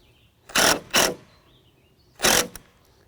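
Screw driven into wooden deck boards with a cordless driver: two short whirring bursts close together, a pause, then a third longer burst, near and loud with no talking.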